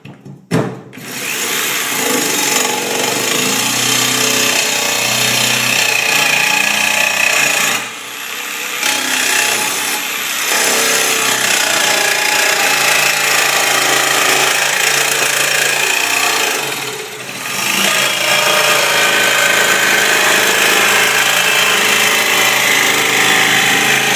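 Metal box being cut in two during a welding job, a continuous harsh grinding rasp running nearly nonstop at high volume, with a few brief dips where the tool eases off before biting in again.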